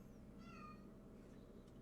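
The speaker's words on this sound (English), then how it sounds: "Why is my cat screaming?" A cat lets out a single faint, drawn-out meow that rises and falls, heard at a distance beneath a steady low room hum.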